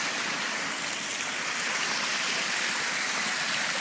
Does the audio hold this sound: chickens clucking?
no